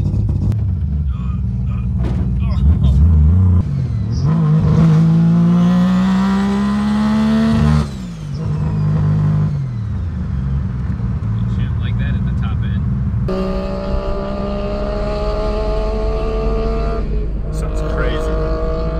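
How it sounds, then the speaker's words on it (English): A loud three-rotor Mazda RX-7 rotary race car engine revs hard on a dyno at 30 psi boost, misfiring, and shrieks through rising pitches, cutting out briefly before winding up again, close and piercing. "you can hear how piercingly loud this car sounds"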